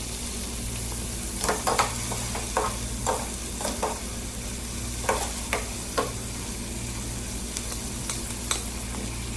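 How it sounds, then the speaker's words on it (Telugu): Tomatoes being stirred in a frying pan while cooking sambar, with a steady sizzle throughout and repeated scraping strokes of the spoon at an uneven rhythm, close and moderately loud. "అలానే ఆ టమాటో కూడా కొంచెం కదుపుకొని"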